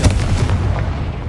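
A Confringo blasting spell in the video game Hogwarts Legacy, a loud, deep, booming explosion that hits at once and rolls off over about a second, with no speech over it.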